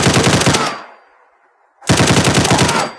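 Fully automatic modern weapon firing in Fallout 4 from a first-person view: two loud, rapid bursts of gunfire, each under a second, separated by about a second of fading echo, with no voices.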